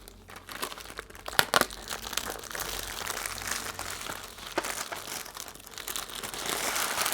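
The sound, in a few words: pencil wrapper crinkling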